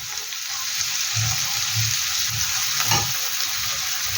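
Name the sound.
frying kachki fish with drumstick flowers in a pan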